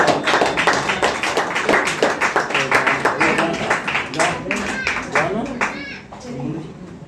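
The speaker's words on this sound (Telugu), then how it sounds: "మరి ఈ సమయంలో చప్పట్లు కొడుతూ పాస్టర్ గారికి ప్రేమతో" A church congregation at a Friday fasting prayer meeting claps for the pastor, a steady run of rhythmic hand claps close by, mixed with voices and tapering off toward the end.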